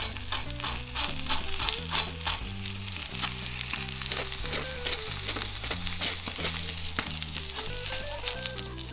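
Crispy-skinned salmon sizzles and spatters in a hot pan, a continuous crackling fry with a low hum underneath.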